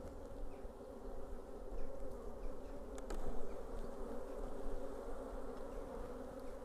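Honeybees buzz steadily and densely around an opened hive during an inspection, a close, continuous hum that swells slightly at moments but never breaks.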